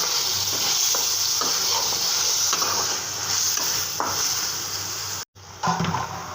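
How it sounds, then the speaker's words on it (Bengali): Tangra fish frying in spice paste, a loud, close, continuous sizzle with stirring scrapes against the pot, briefly cutting out near the end before resuming. "ট্যাংরা মাছটি দিয়ে কষিয়ে উঠাবো"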